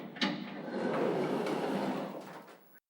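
Doors to a roof slide open after a keypad code entry in an audio drama, a single continuous mechanical whoosh with a sharp start that swells, rumbles for about two seconds, then cuts off.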